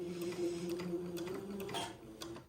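Sewing machine stitching off the edge of lace, a steady close mechanical whir with soft rhythmic ticking of the needle, running alone at low volume.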